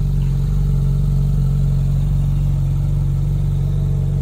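A car engine idles steadily and loudly up close, a continuous low rumble with a faint regular pulse and no talk.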